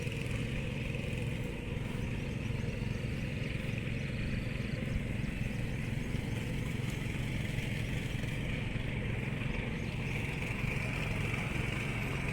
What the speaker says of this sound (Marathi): ट्रॅक्टर चालूच तिकडे नांगरणी चालू आहे.